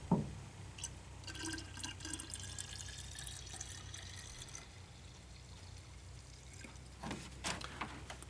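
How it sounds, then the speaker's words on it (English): Water poured into the cooling system of a 1988 Ford Ranger during a heater hose replacement, a faint, steady trickle and splash with a few louder drips near the end, no talking. "we'll put a bit of water in."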